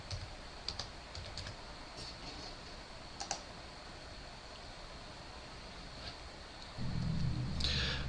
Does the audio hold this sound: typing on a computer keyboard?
yes